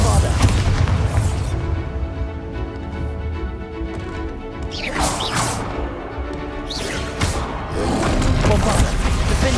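The Bombarda spell in a Harry Potter video game sets off a dense run of heavy booms and crashes amid combat clatter, with shouted voices casting spells in between.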